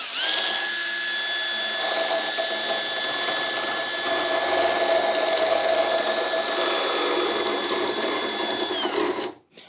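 A power drill fitted with a 14 mm dowel cutter whines steadily through wood at close range, holding a constant high-pitched tone for about nine seconds before spinning down abruptly.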